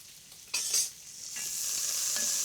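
Sliced onion and ginger hit hot oil in a large pot on high heat, a sharp sizzle flaring up and settling into a steady, close frying hiss, with a brief stir and no voices.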